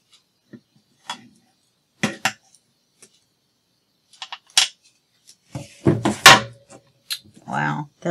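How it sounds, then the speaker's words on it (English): Several sharp clattering knocks of metal scissors knocked by a sleeve catching the handle, scattered bursts with a louder cluster near the end, close and otherwise quiet; a voice is heard briefly. "My sleeve caught the handle of the scissors."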